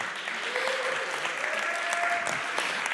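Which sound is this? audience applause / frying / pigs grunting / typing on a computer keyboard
audience applause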